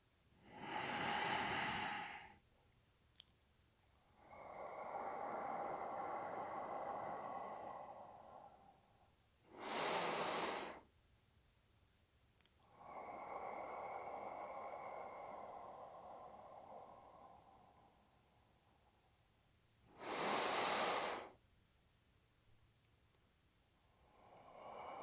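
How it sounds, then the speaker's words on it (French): Slow, deep breaths during a guided breathing exercise: long airy inhales alternate with sharper, louder exhales, roughly three full cycles, close and intimate, with no talking. "On va faire la totalité de la respiration."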